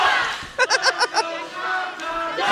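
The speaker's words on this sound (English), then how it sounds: "One guy with a very loud voice cheering for" At a wrestling match, one spectator with a very loud voice cheers in a short burst of rhythmic, sung syllables that rises above the murmur of the crowd.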